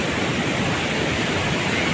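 Water gushing like a waterfall through a hole beneath a damaged bridge, a loud, continuous broadband roar that holds steady throughout with no voices.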